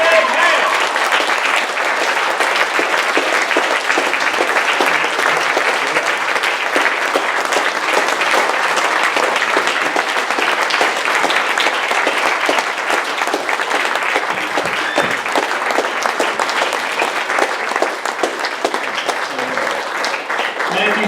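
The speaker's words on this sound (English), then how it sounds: "I just want you to give one more great big round of applause for everybody who donated their time and" A large audience at a Haitian orphanage benefit concert applauds the donors and volunteers, with dense, steady clapping sustained at full strength from start to finish.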